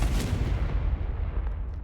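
A Confringo fire spell cast in the Hogwarts Legacy video game bursts out as a loud, sustained booming rumble with crackling blast noise lasting nearly two seconds.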